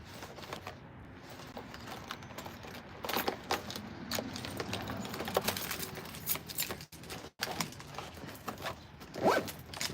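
Keys jangle and clink in irregular bursts close by, mixed with rustling and handling noises, with a brief louder rattle near the end; no one speaks.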